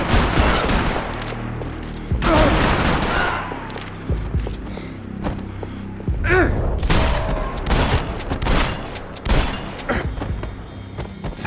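Gunfire in Max Payne 3, with rapid fusillades of shots, booming impacts and bursts of automatic fire spread across the clip, mixed with shouted game dialogue.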